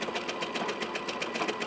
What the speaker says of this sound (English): It's kind of hard to get in here at the sewing machine